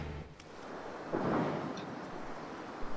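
A thunder rumble swells and fades over a windy, rainy storm backdrop in a stormy level of the Mark of the Ninja video game. It is moderately loud, with no speech.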